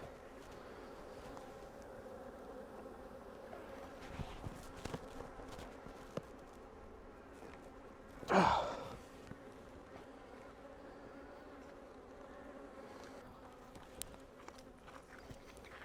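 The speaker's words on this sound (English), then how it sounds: "I'm removing the bees that are on top here." Low, steady hum of bees buzzing throughout, with a few soft knocks and one louder rustle partway through.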